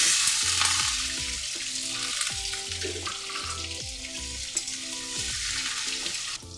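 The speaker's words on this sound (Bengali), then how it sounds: "এবার টুকরো করে রাখা আলুগুলো আমি দিয়ে দিচ্ছি।" Cut potato pieces hiss and sizzle as they drop into hot oil in a pan, a steady frying crackle with a few stirring clinks, moderately close and without any talking.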